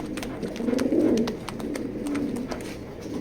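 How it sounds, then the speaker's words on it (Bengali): Racing pigeons coo softly in a pigeon loft, with a few rolling calls close by and steady background noise. "এ হলো নটটা অনেক সুন্দর একটা কবুতর"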